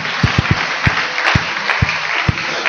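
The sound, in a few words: applause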